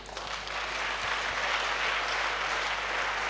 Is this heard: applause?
yes